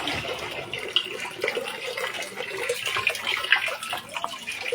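A weak trickle of water runs from a village panchayat tap in a residential ward, a faint, uneven splashing heard close up with no talk over it.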